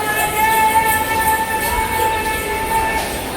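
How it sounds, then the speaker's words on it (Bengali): At Sealdah railway station, where the Lalgola Passenger local train stands, a train's hum and steady sustained tones carry through the station over a low background rumble. "এখান দিয়েই আমাদের আজকের ট্রেন রয়েছে লালগোলা প্যাসেঞ্জার"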